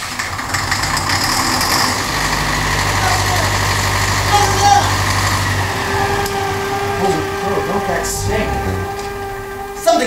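An engine rumbles steadily at idle in a radio dramatization of "The Mist," a loud low drone that drops and shifts partway through as the running note changes, with no voices over it.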